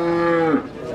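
Limousin cattle mooing at a cattle market, one loud, close, sustained moo with a strong harmonic tone that wavers and trails off, over faint market background.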